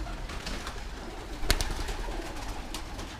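Pigeons coo inside a loft, a soft continuous murmur of several birds close by, broken by a brief flutter or knock midway, with no talking.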